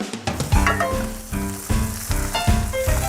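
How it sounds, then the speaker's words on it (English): Stuffed hamburgers on a lightly oiled griddle sizzle loudly and close up, the crackle rising in several pulses as the patties cook, with no talking. "So I did my hamburgers on a griddle. I oiled it just a little bit."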